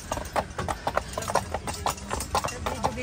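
A horse walks near Neuschwanstein Castle in Füssen, Germany, its hooves clip-clopping in a steady, close, repeated rhythm on hard ground while people talk faintly nearby.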